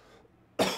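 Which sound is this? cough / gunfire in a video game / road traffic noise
cough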